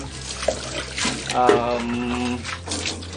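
Water poured and splashing over a screen-printing screen in a toilet stall as it is rinsed, a close gushing and trickling with a brief rising fill tone, while a voice talks over it.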